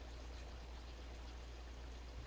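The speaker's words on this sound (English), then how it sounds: "Let's see if you can hear the rain." Heavy rain pouring outside, drumming on parked cars, heard as a steady, soft, even wash of noise with no talk over it.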